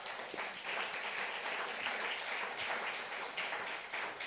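A church congregation breaks into sustained applause during a service, a dense, even roar of many clapping hands heard from a distance, with no voices.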